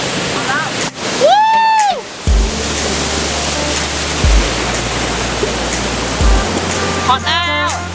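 Tad Huay Muang Noy waterfall in Laos roars loudly and continuously up close, a dense wash of falling water with a few brief voices and bumps over it.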